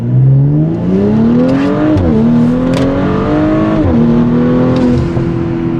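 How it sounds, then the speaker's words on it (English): A modified Audi S5 Quattro accelerates hard in a loud, close engine pull, revs climbing steadily and then dropping sharply at two quick gear shifts before rising again, with no talking over it. "I'll do another pull for you so you can get some sort of understanding of how this thing moves."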